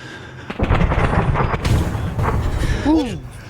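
A loud, rumbling F-18 airstrike explosion in Arma 3 with heavy booming, followed by shouting voices in a combat scene.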